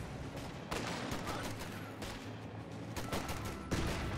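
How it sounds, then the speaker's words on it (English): Rifle grenade blasts and gunfire in the real-time strategy game Company of Heroes, with a steady crackle of battle noise and several sharper bursts, at moderate loudness and with no talk. "Good rifle grenade there,"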